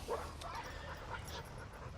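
A pitbull, excited at the sight of other dogs, whimpers and gives a couple of short yips, fairly faint and a little distant over a low steady hum, with no talking.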